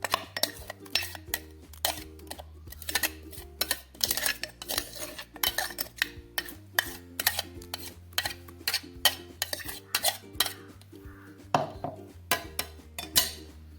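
A spoon works ground masala paste into finely chopped fresh coriander in a metal bowl for kothimbir vadi, giving repeated scraping clinks against the sides in an uneven, busy rhythm, close and fairly loud, with no voices.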